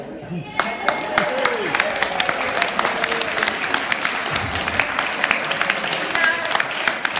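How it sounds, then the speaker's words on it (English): Steady applause from a comedy show audience, dense clapping with a few scattered cheers, continuing throughout at a fairly loud, even level. "Keep that clapping going."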